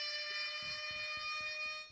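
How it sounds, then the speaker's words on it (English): An electronic alarm sounds with a steady, piercing tone that holds loud for most of two seconds before fading, with a faint rhythmic pulsing beneath it. "The alarm just went off."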